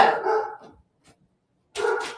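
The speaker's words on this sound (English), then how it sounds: "Oops, Pookie is barking upstairs." A dog barks from upstairs in a house, a loud bark at the start, then quiet, then another bark a moment later, with no talking.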